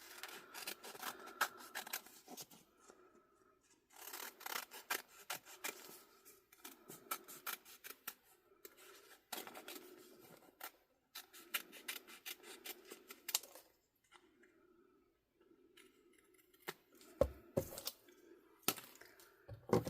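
Scissors snip and trim vinyl decal for an epoxy tumbler in short bursts of crisp cutting and rustling, pausing between strokes, close and fairly quiet.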